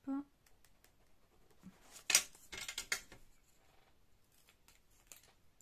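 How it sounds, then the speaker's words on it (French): Scissors snip through scrap craft material at a slight slant while making a recycled pencil holder, a few short crisp cuts near and clear amid quiet handling noises. "Je coupe légèrement en biais"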